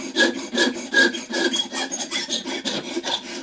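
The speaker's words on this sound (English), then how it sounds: "I don't want to sand it flat on top, so I kind of go, at angles like so" A bone acoustic guitar saddle is sanded on a block at angles to keep its top rounded, giving a steady run of close, rhythmic rasping strokes with no talk.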